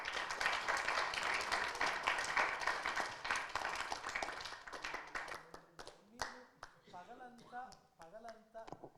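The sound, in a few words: audience applause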